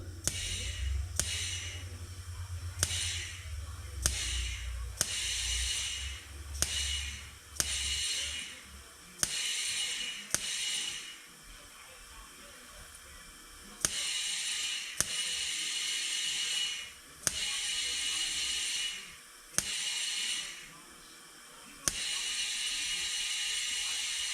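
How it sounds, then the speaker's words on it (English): Air from a compressor rushes in repeated loud hissing bursts as the tire bead slowly seats on the rim of a 2018 Chevy Malibu wheel, each bursting stretch broken by brief pauses and sharp clicks. "Slowly seating. You'll hear it pop."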